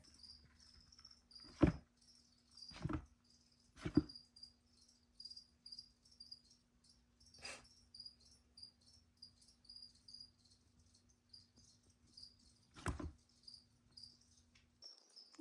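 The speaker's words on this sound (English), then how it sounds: "I'm gonna put some insects in there for her" Crickets and other feeder insects set loose in a tub for a Woodhouse's toad chirp steadily and faintly, joined by a few sharp, isolated taps and knocks; no one talks.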